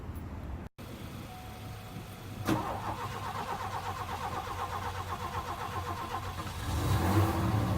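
A 1984 Mercury car that has sat unused for three months cranks and catches at about 2.5 seconds, then settles into a steady, rhythmic idle close by, with the revs rising near the end.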